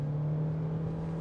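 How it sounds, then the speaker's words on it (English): Toyota Corolla Cross hybrid (2023) engine holding a steady, droning rev with a constant hum, loud and close throughout, no talk. "you will hear the engine revving"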